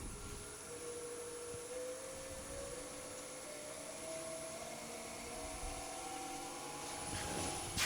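Wood lathe switched on and spun up for turning a bowl, a steady motor whine that rises slowly in pitch as the speed is turned up, continuous and moderately loud.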